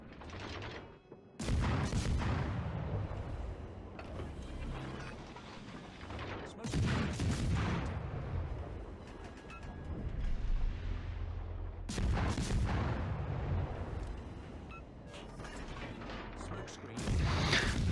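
Warship main guns firing in World of Warships: Legends, a naval battle game: repeated heavy booming salvos several seconds apart, each loud and rumbling, amid continuous battle noise with a voice talking over it.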